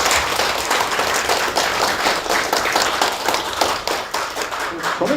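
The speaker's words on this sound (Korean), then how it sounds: "오늘 지금 이런 자리를 만들어주신 우리 성훈 코치님께 박수를 한번 주겠습니다" Dense, steady clapping from an audience at a winter Buddhist lecture workshop fills the room for about five seconds, loud and close, with no break in the rhythm.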